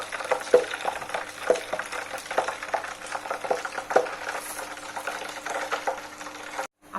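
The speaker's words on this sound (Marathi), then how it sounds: "आता यानंतर कढीपत्ता तळून घेते।" Curry leaves fry in hot oil with a faint, crackly sizzle broken by soft spatters and occasional stirring clicks, steady at low volume before cutting out abruptly near the end.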